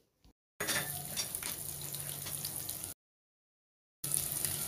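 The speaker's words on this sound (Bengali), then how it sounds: "দিয়া দেবো 1 চা চামচ কালো জিরা, দিয়া দিতেছি রসুন কুচি" Black cumin and chopped garlic hit hot oil for a radish dal, making a loud, close sizzle with faint utensil clinks, heard in two bursts separated by a full silence.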